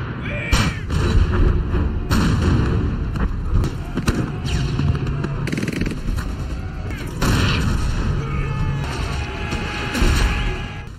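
Repeated heavy Red Army tank cannon blasts boom at irregular intervals over a constant rumble of battle at the Tannenberg Line, loud and close, with faint voices mixed in.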